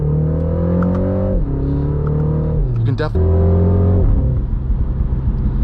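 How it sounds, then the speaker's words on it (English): A 2025 MINI Countryman John Cooper Works engine hums steadily with a few rev changes and a brief burst of crackles near the middle, while someone talks over it throughout. "those little fun mini sound pops and bangs we're getting that are really still fun, but I just wish the exhaust note was as loud"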